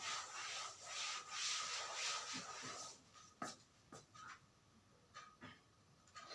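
A duster rubs writing off a classroom board in a physics lesson: about three seconds of brisk, close scrubbing strokes, then scattered soft taps and scrapes as the wiping stops.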